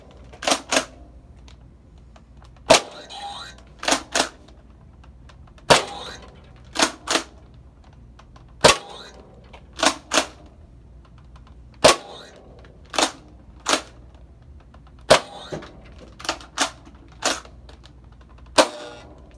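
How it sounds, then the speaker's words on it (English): A Nerf Rival Takedown blaster fires foam balls at a target from a few feet away, giving sharp, loud snapping shots in pairs and singles spread over nearly twenty seconds, with faint mechanical handling sounds between. "I will now be shooting the takedown and try to land it inside that target bear's mouth to show the accuracy."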